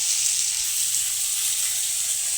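Rohu fish with kalonji fries in oil in a pan, giving a steady, bright sizzle that holds close and even throughout with no talking.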